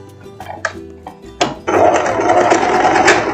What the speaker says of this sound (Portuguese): E agora a gente vai já costurar para você não perder essa pontinha do teu elástico